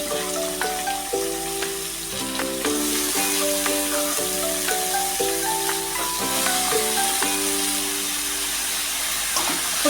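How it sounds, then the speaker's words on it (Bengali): Chopped bottle gourd sizzling in hot oil for a prawn and gourd curry, a steady close fry hiss over a soft tonal background hum throughout. "এখন এটার মধ্যে আমি দিয়ে দিচ্ছি কুচিয়ে রাখা লাউ"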